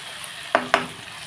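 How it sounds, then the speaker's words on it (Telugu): Chicken added to hot oil in a pan during home cooking: two quick sizzling bursts close together, followed by a low, steady frying hiss. "చికెన్ వేసుకున్నామండి చికెన్ వేసేస్తున్నాను"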